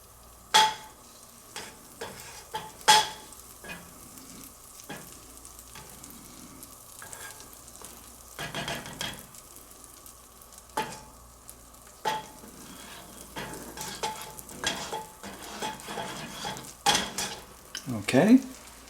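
Butter sizzles quietly in a preheated pan for a grilled cheese and tomato sandwich, a soft continuous hiss under scattered clicks and knocks of utensils against the pan, with no voices.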